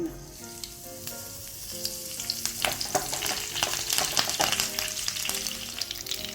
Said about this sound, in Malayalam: ആവശ്യത്തിന് വെളിച്ചെണ്ണ ചൂടാക്കാൻ വെച്ചിട്ടുണ്ട് ഇതിലേക്ക് ആദ്യം കറിവേപ്പിലാണ് ഇട്ട് കൊടുക്കുന്നത്